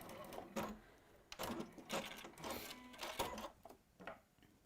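A sewing machine stitches fabric during a designer workshop, running in several short loud bursts with brief pauses between them, close and clear with no talk over it.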